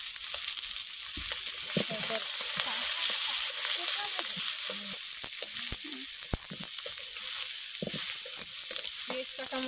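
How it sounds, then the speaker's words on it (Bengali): Onions and green chillies sizzle steadily in a hot pan, a continuous bright frying hiss with scattered stirring clicks and scrapes, close and loud, no voices. "পেঁয়াজ কাঁচামরিচ কষাইতে থাক"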